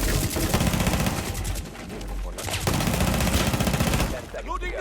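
Rapid bursts of gunfire crackle through a Rainbow Six Siege firefight, several weapons firing in overlapping volleys with brief lulls, loud and close in a dense game mix.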